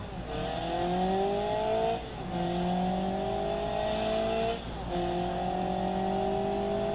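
Engine of a car in BeamNG.drive accelerating toward 100 mph, loud and close, with three rising pitch sweeps as it shifts up through gears, brief dips between each, running alone without talk.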